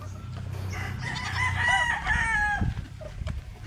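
Several White Kelso gamefowl roosters crow at a breeding area with numbered pens, long overlapping cock-a-doodle-doo calls rising loud in the middle, over low steady background hum.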